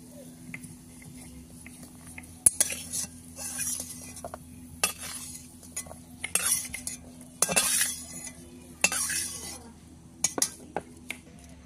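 Fried cashews and raisins are scooped out of a pan with a metal utensil: intermittent clinks and scraping strokes, some sharp and close, spread unevenly over a quiet background hum.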